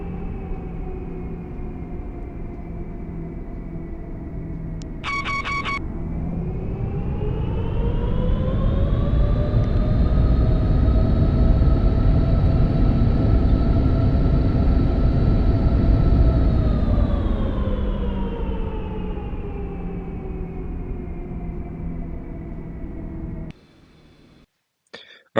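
Airliner landing in the Aerofly flight simulator, a Boeing 777F freighter: a steady jet engine drone swells and rises in pitch, holds, then falls away as the plane brakes, ending with brief clicks and no speech.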